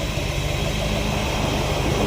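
A 1970 Dodge D100 pickup runs steadily after a camshaft swap with DLC lifters, its exhaust giving a continuous loud, low rumble up close with no pauses.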